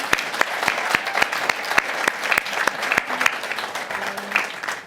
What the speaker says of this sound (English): just one very special round of applause for Marsha